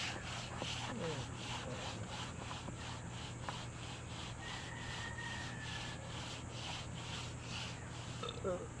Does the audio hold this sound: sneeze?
no